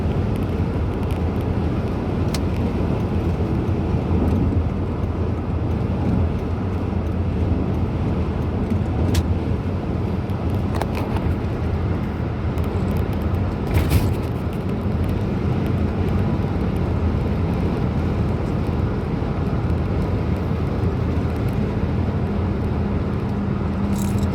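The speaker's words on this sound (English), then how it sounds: "this is pretty light traffic for around 6:30. We'll be going across the Golden Gate Bridge here." Light car traffic crosses the Golden Gate Bridge around 6:30 in the evening, heard from inside a moving car as a steady, loud road and tire roar with occasional passing swells.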